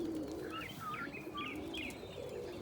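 Close, low cooing from an agate pigeon rolls on steadily while other small birds chirp brightly in the background, with no voices.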